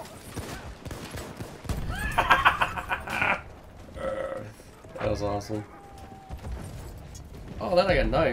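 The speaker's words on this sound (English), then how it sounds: "I kill one horse and there's another one against me" Horses neigh repeatedly in the World War I shooter Battlefield 1, with loud whinnies among gunfire and clattering game noise, while a player talks over the action.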